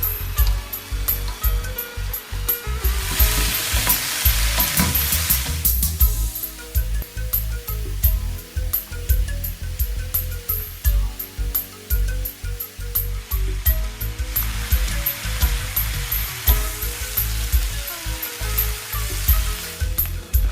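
Sliced cabbage, carrot and yellow onion stir-frying for Japanese yakisoba, a loud steady sizzle with rhythmic scraping and tossing in the pan that swells and fades.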